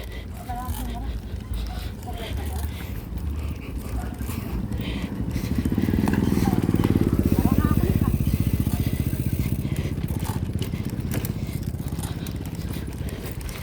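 A motorcycle engine runs nearby, its low rumble swelling louder midway before easing back, with people talking over it.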